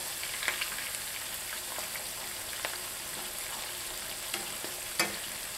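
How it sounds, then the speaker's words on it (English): Steady sizzling of peppers and onions frying in hot oil, with occasional crackles and pops, close and continuous with no talking. "Make sure I get the peppers and onions down in the oil to finish cooking."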